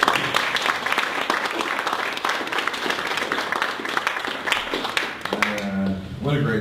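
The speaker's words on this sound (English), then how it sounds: "so let's give Trisha a big round of applause." A room full of listeners claps for a speaker after a talk, sustained applause that tapers off before a voice begins speaking at the end.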